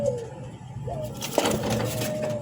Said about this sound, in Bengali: কবুতরটা দেখাচ্ছি